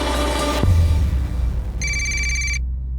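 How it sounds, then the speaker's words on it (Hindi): Mobile phone ringtone ringing inside a house: a bright electronic ringing tone sounding briefly, then stopping abruptly, heard over a low background murmur and a thump. "घंटी की आवाज आ रही है अंदर से"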